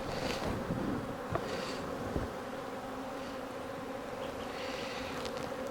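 Honey bees hum steadily around an open beehive while splits are made from colonies with swarm cells, a low, continuous drone with a few sharper buzzes passing close by.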